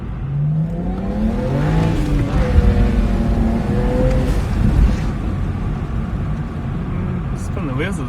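A BMW E92 335i with an N54 engine and a new charge pipe accelerating hard with wheels spinning: a loud engine note sweeps upward through gears with rough tyre and road noise, and someone speaks over it.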